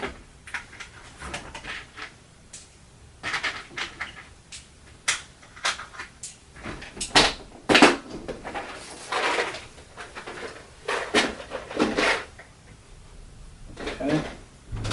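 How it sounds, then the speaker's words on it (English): Small objects clatter and click in quick, irregular bursts as hands rummage through a tray of dice, close and fairly quiet with no talking, the busiest rattling coming midway. "rummaging in dice tray."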